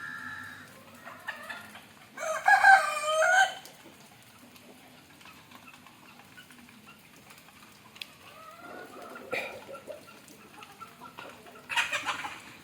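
A chicken clucks and squawks in a loud burst near the start, with quieter clucks and rustling later in an otherwise calm outdoor setting.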